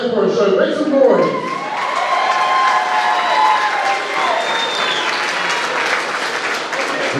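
A crowd at an amateur boxing event applauds and cheers loudly and steadily, with whistles and shouts, while an announcer's amplified voice talks over the noise.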